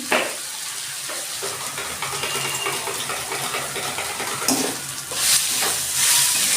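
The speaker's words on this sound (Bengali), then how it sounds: "আমার আলুটা ভাজা হয়ে গেছে" Steady, loud sizzling of small-cut potatoes frying in a pan with salt and turmeric, with stirring and scraping throughout and no voices.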